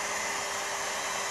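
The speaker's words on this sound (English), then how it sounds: "So we start the pump, fully advance the tool forward" A hydraulic torque wrench pump runs steadily, giving a loud, continuous broadband whirring hiss with no breaks and no voices.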